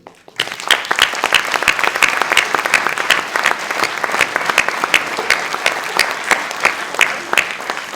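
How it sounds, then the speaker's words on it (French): Applause for elected officials and association presidents at a municipal New Year's greetings ceremony in Séné, starting abruptly and continuing as loud, crisp clapping from a large hall audience. "je prends le risque de faire applaudir aujourd'hui les élus et les présidents d'associations."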